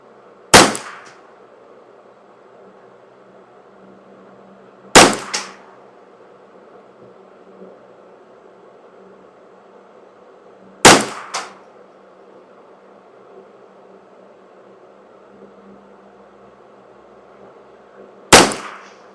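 Four sharp rifle shots from a Custom Shop 10/22 firing Eley Contact .22 ammunition, spaced several seconds apart, each a loud crack with a short ringing tail over quiet outdoor background.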